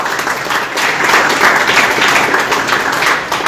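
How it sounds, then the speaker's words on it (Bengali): A crowd claps steadily in dense applause as a team jersey is handed to a player at a football club's kit launch event, sustained and fairly loud throughout. "হাততালি হোক"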